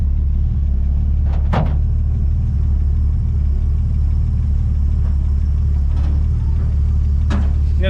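A 1962 Ford Falcon barn find, its engine running for the first time in over two decades, gives a loud, steady low idle with a few sharp clicks and knocks over it, and no talk.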